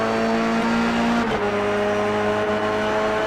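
Race cars overtaking in iRacing, Formula car at Charlotte Roval: a steady, loud engine drone with a clear pitch drop as one car passes, then continuing engine whine alone.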